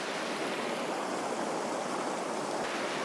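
A river rushes around rocks in Lane Poole Reserve, a loud, continuous broadband roar of flowing water heard from close by, steady and unbroken.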